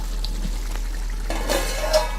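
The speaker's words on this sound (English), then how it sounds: "Egusi soup bubbling over here." A pot of egusi soup cooks in a village kitchen, a quiet steady bubbling and soft sizzle close by, with a few faint clinks near the end and no talking.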